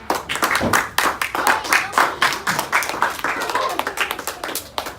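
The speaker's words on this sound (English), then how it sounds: "So let's all give a big round of applause, not only to our student speakers, but also to our audience." Audience applauding student speakers at a public speaking school event, a brisk run of distinct claps at close range that thins into scattered, uneven clapping toward the end.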